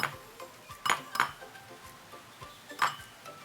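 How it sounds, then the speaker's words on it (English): An egg is tapped and cracked for a microwave mug cake, giving a few sharp, light knocks and clinks at close range with small handling sounds in between. "First, we're going to crack an egg."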